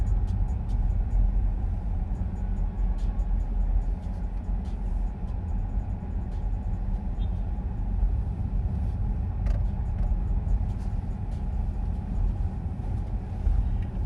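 A car creeps slowly through a downtown Denver parking lot on a Saturday night, hunting for a spot, with a steady, loud low engine and road rumble filling the whole stretch and no talking.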